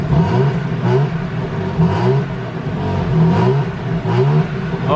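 A 2024 BMW G80 M3 with stock exhaust revs repeatedly, its close, loud engine rising and falling in a series of pulsing blips over a rough idle.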